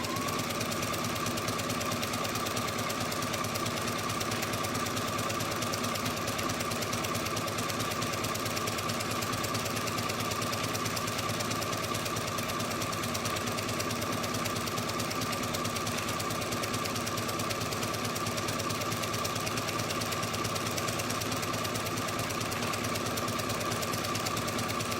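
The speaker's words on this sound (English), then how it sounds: "I'm just going to kind of sew in right inside the line here." A sewing machine runs continuously while stitching a quillow, a close, steady, even mechanical whir and rapid ticking that carries on without pause.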